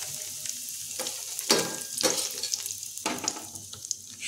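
Whole cumin seeds, bay leaves and dry spices sizzle in hot oil with melted sugar in a wok, stirred with a spatula; a steady crackling hiss with louder scraping bursts, no talking.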